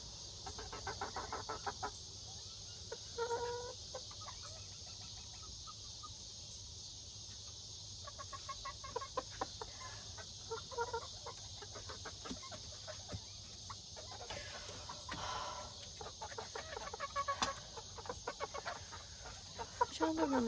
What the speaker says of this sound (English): There's one of my little roosters.